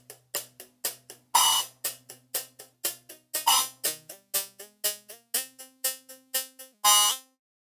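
Hi-hat run through Ableton's Spectral Resonator in monophonic mode, giving a rhythmic sequence of bright, buzzy pitched stabs that change pitch, with a few longer accented hits, clear and without talk.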